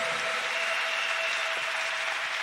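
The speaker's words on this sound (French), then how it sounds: "Oh, applaudissez le Seigneur Jésus." Steady applause from a church congregation honouring Jesus during a sermon fills the space evenly, a dense continuous wash of clapping with a faint sustained tone running under it.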